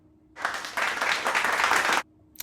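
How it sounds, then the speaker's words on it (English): A short, bright burst of clapping, like a canned or small-group round of applause, starts abruptly, holds steady for under two seconds, then cuts off cleanly into near silence. "I'll wait for the applause."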